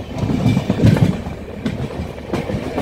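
Passenger trains with LHB and ICF coaches running side by side, a loud close rumble with rhythmic clickety-clack of wheels over rail joints continuing throughout.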